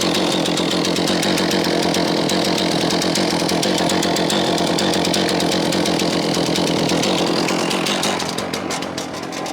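A chainsaw fitted with a low-profile GB milling bar rips steadily through a log on a Logosol mill, loud and close, running continuously at high revs with no talking.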